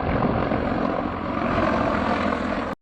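Ka-52 Alligator and Mi-28 attack helicopters in flight during the war in Ukraine, a loud, continuous rotor and engine roar that fills the whole clip and cuts off abruptly.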